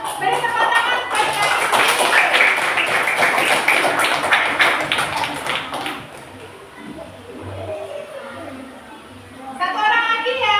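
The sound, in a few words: children applauding in a classroom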